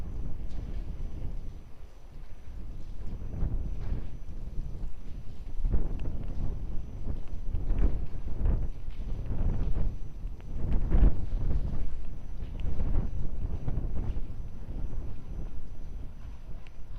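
Strong gusting wind at Lisbon Airport buffeting the microphone, a continuous low rumble that swells and eases in repeated gusts with no voices.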